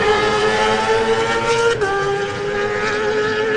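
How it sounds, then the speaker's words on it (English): A Suzuki race motorcycle at the Manx Grand Prix on the Isle of Man passes under the RST bridge, its engine a loud, steady high-pitched whine that holds close throughout with a brief dip midway. "Under the RST bridge, Nathan Harrison now on the Chris Preston and Quayside Tyre Suzuki."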